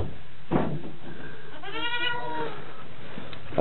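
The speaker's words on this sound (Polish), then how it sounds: "Kozy, króliki." Goats bleat on a farm, one clear wavering bleat rising loudly in the middle with a few softer farmyard noises around it and no talk.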